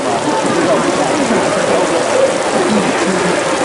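Steady rain hissing down on surfaces at an outdoor Maulid religious gathering in Aceh, a continuous loud wash of patter with no clear breaks.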